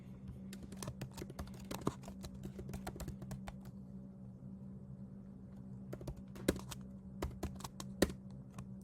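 Rapid keystrokes on a computer keyboard while entering search terms into lead-scraping software, sharp irregular clicks in bursts and pauses over a steady low hum, close and fairly quiet.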